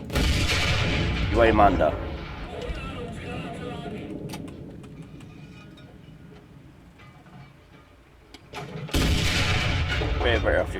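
High-explosive tank shells firing in the video game Enlisted, two heavy booming blasts with rumbling tails, one early and one near the end, and someone talking quietly between them.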